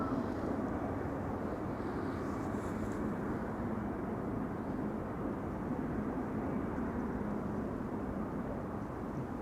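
A KLM Embraer jet at Amsterdam Schiphol Airport gives a steady, broad engine roar that holds at an even loudness throughout, with no voices.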